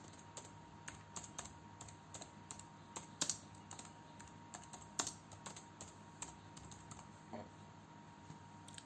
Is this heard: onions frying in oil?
no